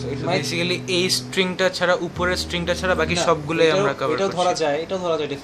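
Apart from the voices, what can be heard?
No distinct noise like a dog, phone or traffic.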